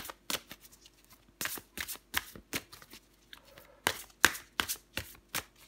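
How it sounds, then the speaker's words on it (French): Tarot cards shuffled and drawn by hand, a series of crisp riffling bursts and sharp slaps in irregular clusters, close and clear against a quiet background with no voice. "je prends encore une carte pour vous"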